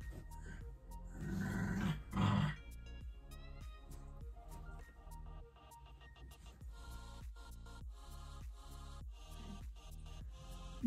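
Dogs play and growl nearby, rough snarling and rumbling bursts that are loudest early on, while music plays steadily underneath.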